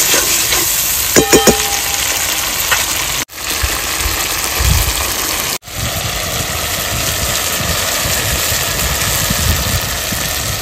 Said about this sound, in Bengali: লবণ, হলুদ গুঁড়ো, সবকিছু দিয়ে মশলাটা সুন্দর করে কষিয়ে নেব।